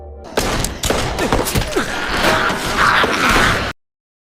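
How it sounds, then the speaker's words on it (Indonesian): A rapid burst of loud gunfire, several sharp shots cracking close together over a noisy, busy background, cutting off abruptly at the end. "akhirnya melepaskan tembakan"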